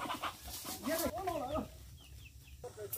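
Chickens clucking and squawking on a rural Vietnamese family farm as they are chased, with agitated calls rising in the middle of the short stretch, while people talk excitedly nearby.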